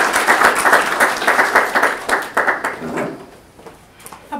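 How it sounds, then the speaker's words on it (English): Audience applause at a youth leadership and philanthropy event, a steady burst of clapping from a crowd that swells, then thins out and fades to scattered claps. "How about another round of applause for our young philanthropists this morning?"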